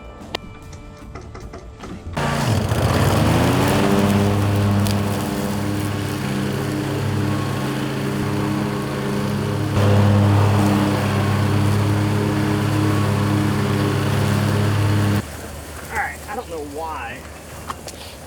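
A small lawn mower engine starts with a pull and runs at a steady, loud idle, then cuts off, leaving faint sounds afterward.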